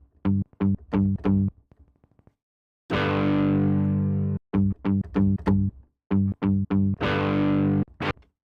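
A distorted electric guitar sound from the PowerChord plugin plays short, clipped chord stabs in quick groups of three or four, alternating with a couple of longer sustained notes, loud and up close.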